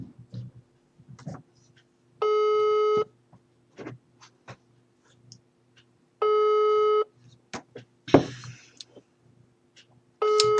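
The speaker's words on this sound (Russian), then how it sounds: "Я же не могу дозвониться, и все. Вот звоню." Telephone call tones sound as the line fails to connect: loud, regular beeping bursts repeat about every four seconds, with faint handling clicks and rustles in the quiet gaps.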